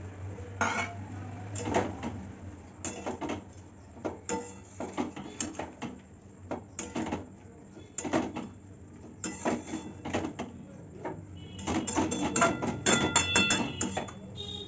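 Metal pot and lid clatter while a lid goes onto a cooking pot of papaya curry with raw chickpeas and potatoes, a string of close, irregular clanks and scrapes growing busier toward the end.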